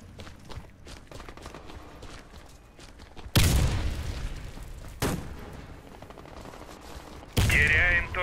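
Gunfire and a grenade blast ring out in the online shooter Warface during a Domination match. Loud broadband bursts of shots and explosions cut in sharply over a quieter background of distant battle noise.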